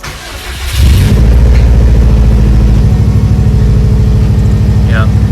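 A Subaru WRX engine, just back together after a fuel filter install, cranks briefly and fires up close by, then settles into a steady, rumbling idle with a pulsing exhaust beat. A voice speaks faintly near the end.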